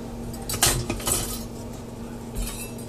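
Metal kitchen utensils clink and rattle together while a whisk is hunted for, a few bright close clatters in the first second, then quieter shuffling and one more clink.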